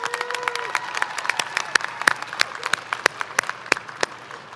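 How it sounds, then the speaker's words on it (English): Graduation audience at a high school ceremony clapping in a scattered, fairly light round of applause, individual claps distinct and somewhat distant, with faint murmuring in the hall. "Let's do a big round of applause."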